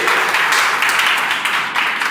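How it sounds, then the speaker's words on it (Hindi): Loud, sustained applause from an audience at an honour ceremony, dense clapping continuing evenly with slight swells and no pause. "एक बार जोरदार ताली बजाइए"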